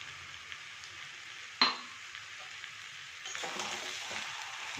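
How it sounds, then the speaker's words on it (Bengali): Cabbage curry with fried spice mix frying in a pan, a soft sizzle under a sharp utensil clink, then louder scraping and stirring toward the end. "একটু নাড়াচাড়া করে দিচ্ছি তরকারিটা"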